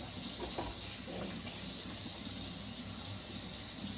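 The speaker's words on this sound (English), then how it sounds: "I try to drain the water off them because I already have watermelon juice inside of the bowl" Water runs steadily from a kitchen tap or drains from a bowl of cut fruit during summer party food prep, a constant close splashing wash with no talking.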